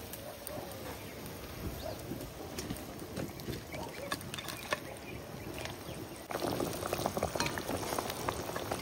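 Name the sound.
silver carp fish curry water boiling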